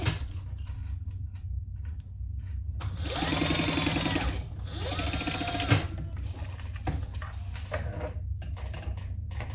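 Sewing machine basting the lining of a fabric hip bag, a steady mechanical whir with rapid stitching bursts that rise and fall in two longer runs, close and alone.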